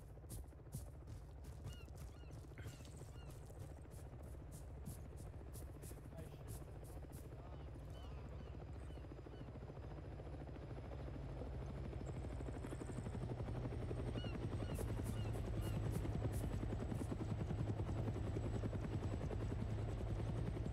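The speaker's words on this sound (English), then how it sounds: "Well, we'll find out if this helicopter lands or not." A military helicopter in the Arma 3 combat game thumps and whirs steadily nearby, its rotor drone swelling louder toward the end, with brief honk-like tones and faint clicks over it.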